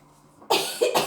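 A woman coughs twice in quick succession, close and loud, after a brief quiet moment; the second cough comes in two sharp bursts.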